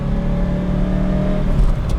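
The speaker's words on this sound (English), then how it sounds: "man, it sounds so good. I know it's just a V8" A 1980s Lamborghini Jalpa V8 engine drones loudly and continuously under acceleration on a highway, a deep, rich rumble with a steady pitch.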